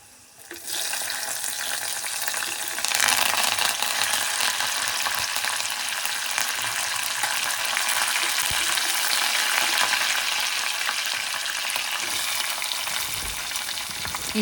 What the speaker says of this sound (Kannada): ಹಸಿಮೆಣಸಿನ್ಕಾಯಿ ಮತ್ತು ಕರಿಬೇವಿನ ಸೊಪ್ಪು ಅದನ್ನು ಕೂಡ ಸೇರಿಸ್ಕೊಂಡು ಫ್ರೈ ಮಾಡ್ಕೊಳ್ಳೋಣ